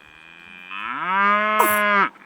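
A calf lets out one long, loud moo that swells and then cuts off, close and alone, used as a sound effect in a children's story.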